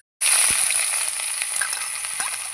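Food frying on an induction cooktop during home cooking, a loud steady sizzle that starts abruptly and continues with occasional crackles and the clink of stirring.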